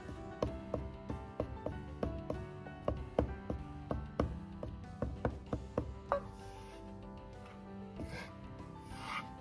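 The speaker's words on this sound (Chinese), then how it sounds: "最后切成小丁，如果感觉偏粗的，稍微剁细点" A knife chops food into small dice on a board for a braised tofu dish, with rapid, close, sharp rhythmic taps that thin out toward the end.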